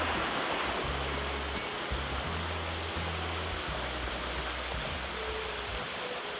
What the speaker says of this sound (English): looks like we got to cross the creek again